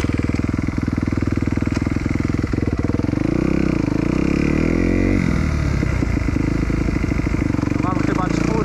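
Kawasaki KX250F dirt bike engine idling and running warm, a loud, close, steady four-stroke thrum with a few blips of throttle, with someone talking over it.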